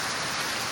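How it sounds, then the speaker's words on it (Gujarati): Heavy monsoon rain pours down outdoors, a dense, unbroken hiss of drops striking surfaces, steady and loud throughout the brief moment. "જોઈ કેટલો બધો વરસાદ પડી ગયો છે"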